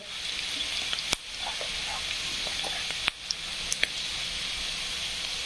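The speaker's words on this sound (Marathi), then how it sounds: "कढीपत्त्याला पण असं छान त्याची फ्राय करून घ्यायचं आहे" Curry leaves frying in hot oil make a steady bright hiss and sizzle, broken by a few sharp crackles and pops.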